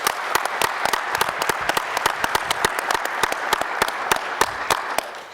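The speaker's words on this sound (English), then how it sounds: "So give these kids a round of applause" Audience applause for a group of student broadcasters at a standards committee meeting, a steady run of dense, sharp handclaps from a fairly close crowd lasting the whole stretch with no talking over it.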